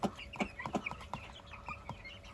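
Hens in a coop cluck in scattered, short bursts at close to middle distance, a faint flock chatter with intermittent sharper calls over a low background hum.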